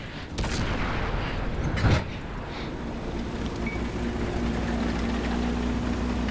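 A tank cannon fires in World of Tanks, with a single loud boom near the start over a continuous engine rumble.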